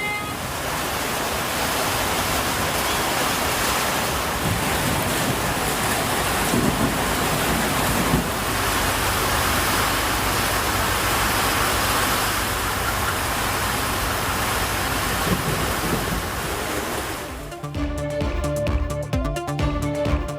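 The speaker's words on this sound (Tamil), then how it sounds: "கொடைக்கானல் மற்றும் சுற்றுவட்டார பகுதிகளில் கனமழை." Heavy rain falls in Kodaikanal as a dense, steady roar that holds for about seventeen seconds, then gives way abruptly to a different, more broken sound.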